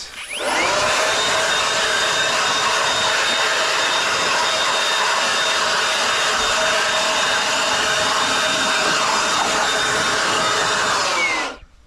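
An air blower roars steadily while drying a washed car engine bay, loud and continuous for about eleven seconds before cutting off.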